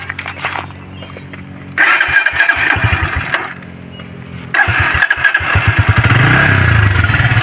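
A SKYGO BOSS 150cc motorcycle on its stock pipe is started twice, each time bursting into loud, close, rapid exhaust pulses, then settling into a throbbing idle with a few blips of throttle.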